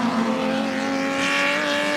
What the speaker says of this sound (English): down it comes into the hairpin, understeering a little bit, accelerating out now, up through the gearbox, front wheel drive